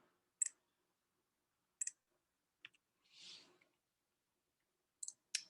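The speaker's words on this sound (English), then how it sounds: "we're going to click here," Computer mouse clicks while sketching splines and slots in CAD software: a handful of sharp, isolated clicks, a few in quick pairs, spread across near silence, with a brief soft rustle in the middle.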